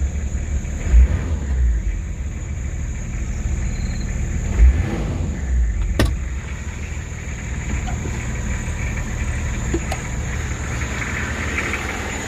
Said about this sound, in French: Ça fait un bruit de camion.